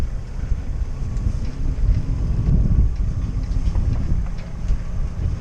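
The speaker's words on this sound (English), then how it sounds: "Blowing a bit of a cold easterly" A cold easterly wind blows across the Solent off Gosport in November, buffeting the microphone on a sailboat as a steady, close, low roar with rising and falling gusts and no voices.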